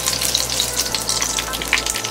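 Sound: vegetarian ribs pan-frying and sizzling

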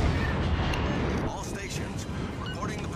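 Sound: ship guns firing in video game World of Warships: Legends

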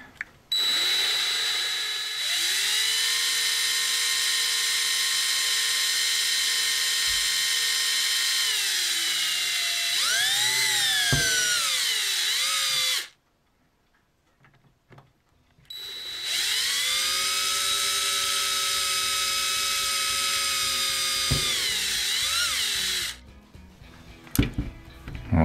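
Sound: drilling a hole with a drill

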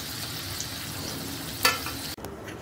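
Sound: deep frying wheat flour and potato snack

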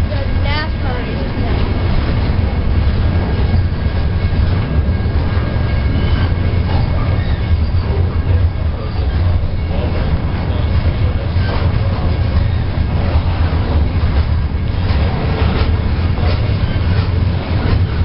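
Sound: freight train passing

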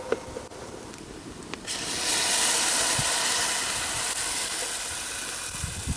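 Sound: onions frying in a pan

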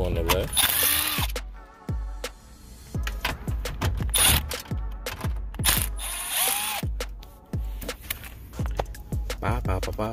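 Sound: ratchet removing 7mm radio screws

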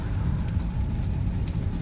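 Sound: heavy rain while driving a car

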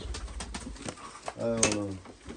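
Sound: pigeon cooing in a coop

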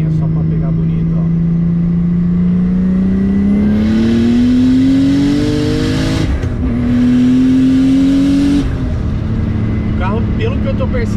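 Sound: BMW E36 turbo car accelerating in third gear

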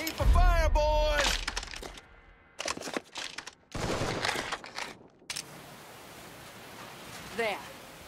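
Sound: gunfire in the video game Mafia III

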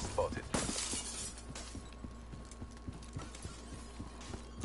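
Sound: glass breaking in the video game Black Ops 3

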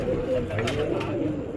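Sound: pigeons cooing, desi chitty pigeons

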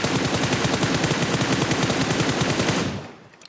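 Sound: gunfire spray in a battle royale video game

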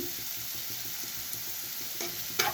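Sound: spices frying and being stirred in a pan

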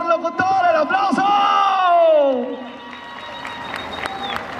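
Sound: applause and cheering for best announcer award

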